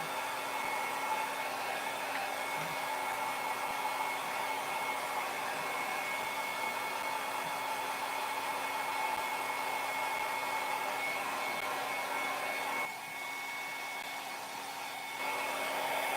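A hair dryer drying paint runs steadily indoors, a constant whirring blow at even loudness that dips briefly near the end.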